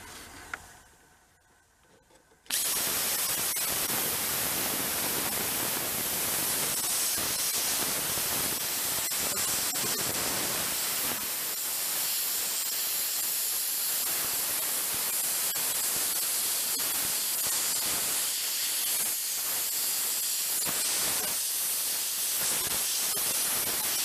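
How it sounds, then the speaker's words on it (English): A plasma cutter slices through a car's exhaust metal near the muffler, starting abruptly after a quiet moment and then roaring as a loud, steady hiss for a long stretch. "I got the welding cart out and it has the plasma cutter on, so I might as well play with another toy."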